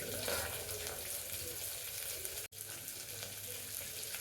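Onion and garlic sizzle steadily in hot oil for Karnataka-style bele saaru, a dense continuous frying hiss with a brief cut near the middle, no voices.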